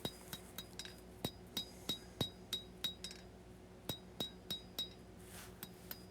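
Hot steel being hand-forged into a small skinner knife on an anvil: about fifteen sharp, ringing hammer blows at a fairly steady rhythm, close and clear, with short ringing decays and no talking.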